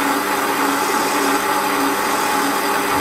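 Warco lathe parting off a 10mm part gives a constant, loud whirring machining drone with no pauses and no talk.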